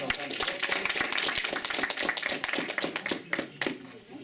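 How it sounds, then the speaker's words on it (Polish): At a residents' meeting in a neighborhood hall, a small group claps after election results are read, with uneven, scattered hand claps mixed with faint murmuring voices, fading toward the end. "Dziękujemy bardzo, wielkie brawa."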